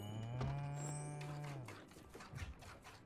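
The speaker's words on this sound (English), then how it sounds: "That's quite a big cow compared to the size of Stella." A big cow in the video game Spiritfarer lets out one long, loud moo that fades after about a second and a half, followed by a few soft, clicky game sounds.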